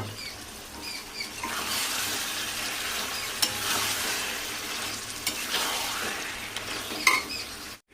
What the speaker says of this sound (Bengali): এরকম সময় আমি ম্যারিনেট করা চিকেনটা দিয়ে দেব।